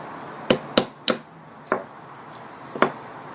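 Five sharp metallic hammer strikes driving a pin out of a Ruger MK III 22/45 pistol, close and loud, spaced unevenly with short pauses between blows.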